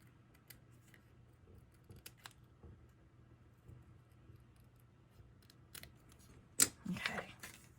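Scissors snip a circle out of a paper collage sheet for a handmade junk journal: faint, sparse cuts sound close in a quiet room, ending in a louder crisp snip and paper rustle.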